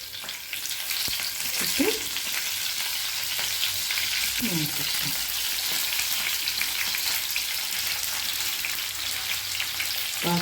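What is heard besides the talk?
sankara fish frying in hot oil with curry leaves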